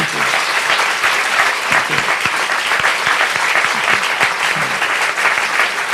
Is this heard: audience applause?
yes